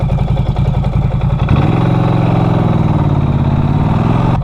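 Engine of a Norton Commando 961 SP motorcycle runs steadily and close, a pulsing low thrum that settles into a smoother, fuller drone partway through.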